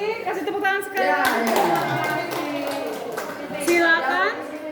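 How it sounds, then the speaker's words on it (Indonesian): An audience claps in scattered bursts during a session at a junior high school in Muntok, with voices talking over the clapping almost the whole time. "berarti kasih tepuk tangan sekali."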